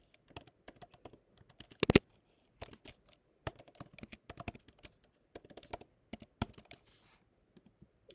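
Rapid, irregular keystrokes on a computer keyboard while correcting a misspelled word, close and fairly quiet, in short bursts with pauses between them and no speech.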